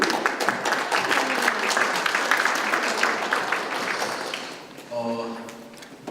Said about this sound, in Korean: 박수로 한번 맞아주십시오